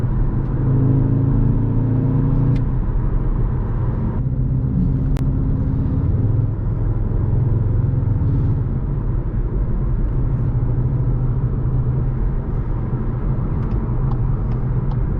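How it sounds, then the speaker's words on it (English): A steady, droning engine hums continuously inside the cabin of a 2022 Skoda Octavia vRS cruising at about 68 mph, with actuator-enhanced engine sound; a low rumbling tone with slight shifts in pitch, loud and unbroken. "I don't think the engine actually sounds like that"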